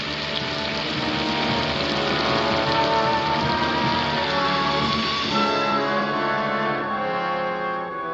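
Steady heavy rain pouring onto surfaces in a continuous dense hiss, loud and close throughout with no voices.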